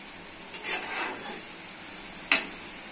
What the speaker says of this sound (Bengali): মসুর ডাল দিয়ে ভালো করে কষে নিতে হবে